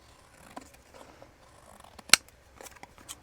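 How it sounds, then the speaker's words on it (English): Scissors snip through cardboard or craft material while a removable pen holder for a junk journal is being made: one sharp, close cut stands out among soft handling rustles, with no talking. "And let's use these scissors."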